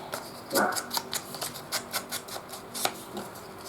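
Pet dogs yap in a quick run of short, sharp barks, roughly a dozen bursts at a steady pace, heard indoors at moderate distance with no talking over them.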